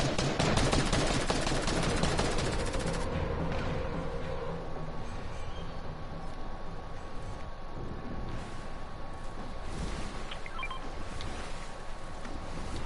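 Rapid gunfire in the Fortnite battle royale game, loud and dense for the first few seconds, then thinning into scattered distant shots and clatter over a continuous background of game noise.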